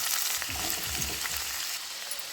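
Nalleru (veldt grape) stems sizzle briskly in hot oil for a tomato chutney, a close, continuous crackling fry with a few soft stirring scrapes over about two seconds.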